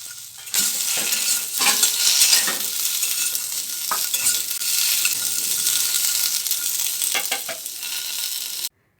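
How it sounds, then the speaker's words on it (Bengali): Potatoes and flat beans frying together in a pan, a steady loud sizzle with repeated scraping stirs of a spatula, alone without talk, cutting off abruptly at the end. "শিমটা আর আলুটাকে একসাথে কিছুক্ষণ ভালো করে লালচে করে ভেজে নিতে হবে"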